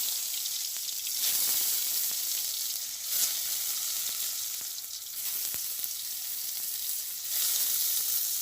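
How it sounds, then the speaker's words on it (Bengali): Pointed gourd rubbed with salt and turmeric fries in mustard oil, giving a loud, continuous hissing sizzle that swells and eases, with a few faint utensil taps and no speech. "হালকা একটু ভাজি করবো পটলটা"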